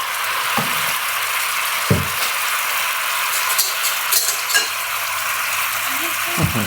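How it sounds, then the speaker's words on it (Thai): Sauce boiling in a pot while cooking a Thai egg dish: steady bright hissing bubble texture throughout, moderately loud, with a few soft clanks of a utensil against the pot. "เราก็เริ่มเดือดแล้วนะคะ"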